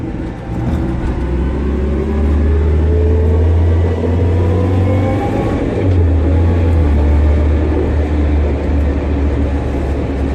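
A Toyota AE86 drives around a block with a steady, loud low engine drone that dips briefly mid-way as gears change, then pulls again; no voices.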